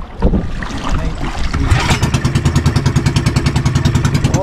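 A small boat's engine starts up and settles into a loud, steady pulsing chug, close by with a regular rhythmic throb, on a trip out to a mangrove area.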